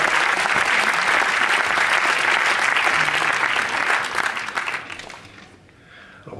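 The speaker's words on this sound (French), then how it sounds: "C'est bon, on va l'applaudir." Audience applause at a French film critics' awards ceremony, dense steady clapping that fades away over the last seconds.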